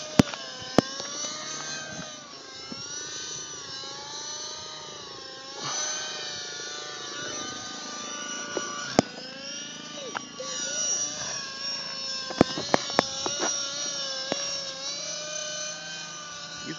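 Aircraft engines drone and whir steadily throughout, with a rising and falling pitch like a helicopter passing, and a voice talking over it.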